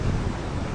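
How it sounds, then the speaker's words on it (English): Gusty coastal wind at Crescent Head on a beach headland, a brief, dense rush of roaring air buffeting the microphone, with no voices. "because it's getting a bit windy,"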